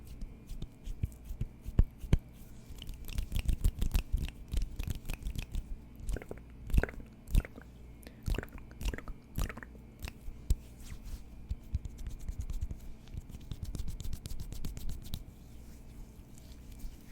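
Thin lotion being rubbed between hands, close and intimate, with soft irregular crackles, smacks and slippery squelches that come in clusters and then fade, and no speech.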